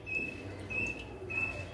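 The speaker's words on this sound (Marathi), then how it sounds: "किती सुंदर पक्षी पण बघा आवाज करतो।" A bird sings outdoors in Ayodhya after a Ram temple puja, giving three thin, high repeated calls at a moderate distance over a low, steady background hum.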